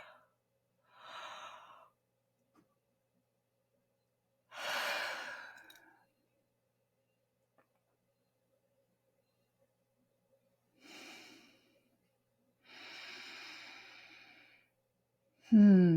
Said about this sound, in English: Just keep taking nice big deep breaths.